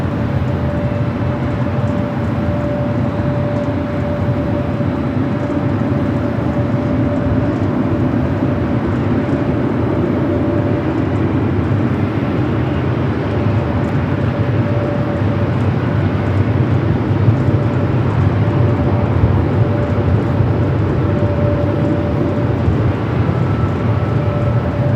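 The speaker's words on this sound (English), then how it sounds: "Singapore flight 101 heading back to Tokyo Narita. This 777 at 300 ER up next for takeoff." Singapore Airlines flight 101, a Boeing 777-300ER bound for Tokyo Narita, begins its takeoff at LAX: a continuous, even engine roar with a steady whine running through it, with no voices.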